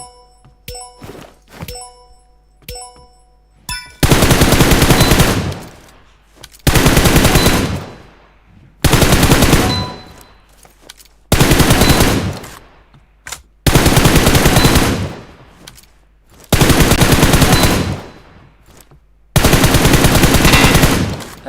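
Gunfire in the PUBG Mobile video game: a few sharp single shots, then repeated loud bursts of automatic fire, each lasting a second or two with short silent gaps between them.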